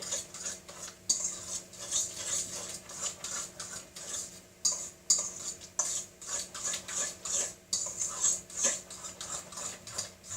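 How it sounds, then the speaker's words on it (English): A spoon scrapes and clinks rhythmically against a bowl while a chickpea dahl loaf mixture is stirred, producing steady, close, repeated scraping strokes without talking. "And then I'm going to mix that around."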